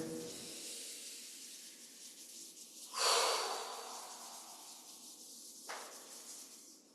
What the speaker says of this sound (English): Shaking it out, breathing deeply, rubbing the palms together.